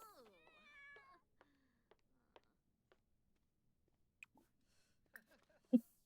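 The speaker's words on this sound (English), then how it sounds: "I'll fill the bowl for the cat who keeps crying." A pet cat named Junie cries and meows in The Sims, a rising, wavering meow at the start followed by sparse clicks and a sharper cry near the end, fairly quiet with no talk.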